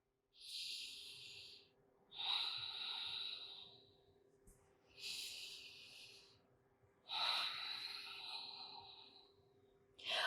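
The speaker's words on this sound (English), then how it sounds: "taking 2 breaths here" Slow, deep breaths during a morning yoga flow, each long airy inhale or exhale lasting about two seconds and separated by short pauses, close and clear with no talking.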